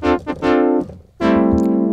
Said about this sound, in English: what you're hearing is the envelope going to the filter being re-triggered with each note I play